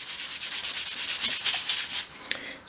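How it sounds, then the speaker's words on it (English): Small wooden moulding pieces for a dolls house rubbed with 500 grade sandpaper, a close, steady back-and-forth scratching in quick rhythmic strokes, alone and fairly loud. "I'm just using a piece of 500 grade sandpaper here to sand the pieces"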